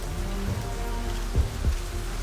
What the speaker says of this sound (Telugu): అరే, వర్షం బాగా పడుతుంది.